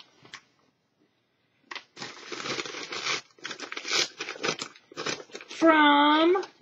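An envelope with a shirt inside being handled and torn open, crinkling paper and tearing bursts in close quick rustles mixed with a person talking, ending in a louder stretch of voice.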